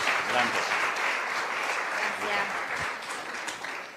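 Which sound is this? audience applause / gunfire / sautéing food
audience applause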